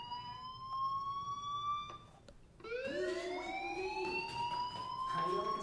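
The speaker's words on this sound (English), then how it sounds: "do you hear that fire alarm?" An alarm rings in the Life is Strange video game, shown as a steady tonal ringing with harmonics that cuts off briefly near two seconds, then resumes with a rising sweep and continues loudly to the end.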